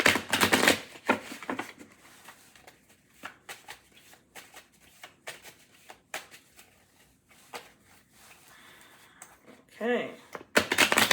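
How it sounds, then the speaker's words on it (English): A deck of tarot cards is shuffled in brisk, papery riffling bursts, loudest at the start and again near the end, with softer card handling and a voice speaking in between. "I'm going to shuffle this like 3 times."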